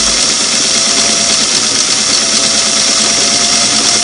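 A Singer Model 338 sewing machine winds a bobbin, giving a loud, constant high-speed mechanical whir with even buzzing and no pauses, close up.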